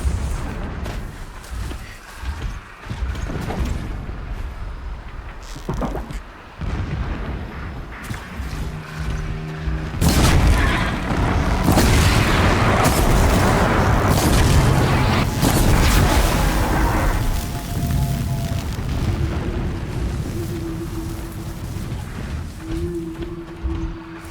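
Distant explosions in the video game Horizon Zero Dawn come as irregular deep booms and rumbles, mixed with scattered crackles, bursts and tonal game sounds over a continuous background.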